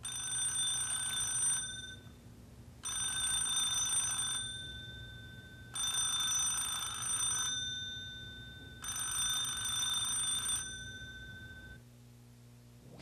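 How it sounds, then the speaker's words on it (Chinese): A telephone rings in four evenly spaced bursts of bright trilling bell tones, each about two seconds long with short pauses between, clear and fairly close over a low steady indoor hum, with no talking. "你打个电话给郝老师，告诉他冰冰已经回来了"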